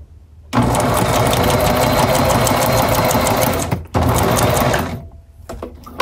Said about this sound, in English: drop my needle in, lift my foot, pivot, drop my foot down, sew straight to the end